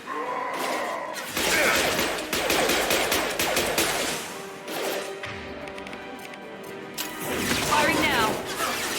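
Rapid bursts of gunfire from a Mass Effect 2 firefight on Insanity difficulty, loud and dense with repeated volleys and crashing impacts, interrupted by short gaps, with in-game voices calling out among the shots.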